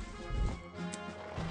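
Horse hooves clip-clop in the strategy game Panzer General II, a short burst of muffled hoofbeats followed by a brief bright chime.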